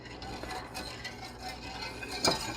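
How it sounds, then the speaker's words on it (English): A whisk beats butter cake mixture in a pot on an electric stove, making soft, continuous rhythmic scraping and light metal clinks, with one brighter clink near the end and no speech. "I'm going to whisk it a little bit more."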